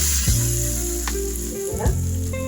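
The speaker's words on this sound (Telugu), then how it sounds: "ఫ్రై అయిన ఈ తాలింపుని దీంట్లో" Fried tempering is poured into a pot of vegetable sambar and sizzles loudly the whole time, with a few sharper hissing bursts as it hits the liquid.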